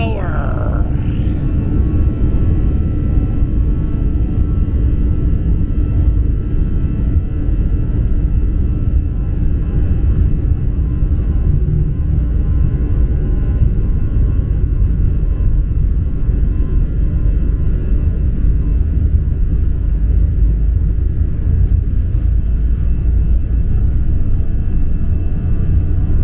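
An airliner rolls and takes off on a return flight from Varadero, Cuba, its engines building to a loud, steady roar heard from inside the cabin, with a voice talking briefly over it.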